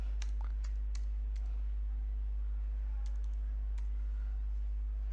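A few light, scattered clicks from a computer keyboard while typing in Excel, heard over a steady low electrical hum.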